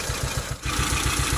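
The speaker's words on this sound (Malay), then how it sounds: "Dia bunyi macam tidak ada api" A Proton Wira sedan's engine idles roughly with a misfire, its loud, steady low thrum pulsing in an uneven rhythm of chugs and briefly dipping before it carries on.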